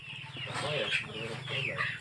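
Chickens cluck steadily and close by, overlapping calls in a busy flock with a low hum underneath.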